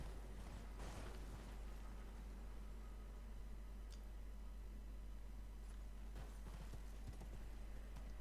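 A steed's hooves clip-clop at a steady trot in the video game Elden Ring, quiet and continuous over a low rumbling background with no voices.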